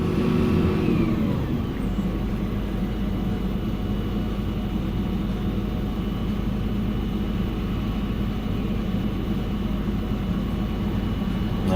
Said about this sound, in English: he's taking it up there with the skid steer and dumping it into the hole